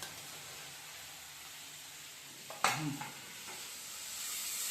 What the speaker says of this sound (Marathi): प्रॉपर मसाला भाजून घ्यायचा, परतून घ्यायचा आहे.